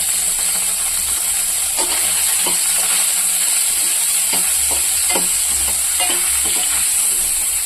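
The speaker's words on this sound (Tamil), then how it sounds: "கொஞ்சம் எண்ணெயில் ஃப்ரை ஆனாலும் நம்ம இந்த பன்னீர் வச்சுக்கணும்." Paneer pieces frying in a little oil in a pan, a steady close sizzle throughout with occasional scraping clicks of a utensil stirring, no voices.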